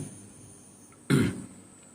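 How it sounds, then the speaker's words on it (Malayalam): A single short, sharp cough breaks a quiet background, close and distinct, fading quickly afterward. "ജലദോഷം മാറിയെങ്കിലും ചുമയിലേക്ക്"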